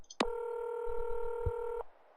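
A Nancy Drew game phone is dialed: a short key beep, then a single steady dual-tone signal holds for about a second and a half, clear and close, with faint low thumps underneath.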